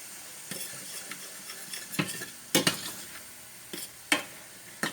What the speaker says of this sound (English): just to deglaze the pan, probably about 1/4 of a cup of wine